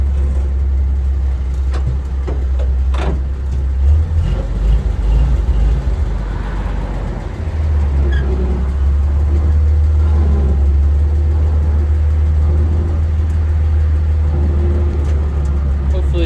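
An 81-year-old army truck drives along in cold weather, its engine a loud, steady low rumble that holds throughout, with a brief dip partway through and faint talk over it.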